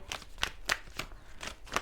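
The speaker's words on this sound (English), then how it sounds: "Let's just shuffle though." Tarot cards being shuffled by hand, a run of crisp riffling bursts in an uneven rhythm, close and fairly quiet, with no voices.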